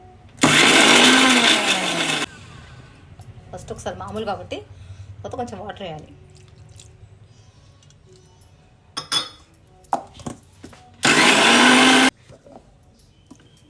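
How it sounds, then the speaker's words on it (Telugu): A kitchen mixer grinder blends garlic and chilli chutney in two loud bursts of about two seconds each, with someone talking and some clinks of utensils in between. "ఇప్పుడు మిక్సీ పట్టుకుందాము మిక్సీలో వేసేసినది"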